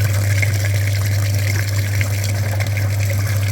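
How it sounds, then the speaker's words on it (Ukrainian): Flushing machine pumping cleaning liquid through the front radiator of a VW Jetta, a steady continuous hum with a constant rushing, gushing flow of liquid throughout, loud and close, with no talking. "вмикаємо далі апарат будемо мити передній радіатор"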